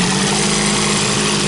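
An Evinrude Johnson outboard motor idles steadily and loudly up close with a constant low, even engine drone and no change in pace. No one speaks.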